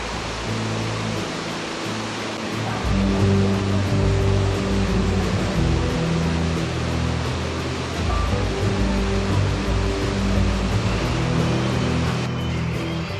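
Steady roaring rush of water, a constant broadband wash of a waterfall in Litchfield National Park during the wet season, with no pauses and no voices.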